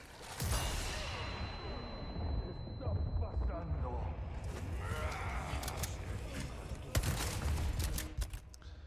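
A flashbang grenade goes off in Resident Evil 4 with a sharp blast, then a sustained high ringing tone and roaring combat noise, followed by more bangs and a loud crack near the end, with a voice speaking throughout.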